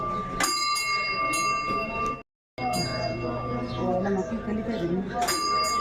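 A bell at the entrance of the fertility temple in Punakha rings with clear metallic tones that repeat several times, sustained over murmuring voices and background bustle, with a brief cut near the middle.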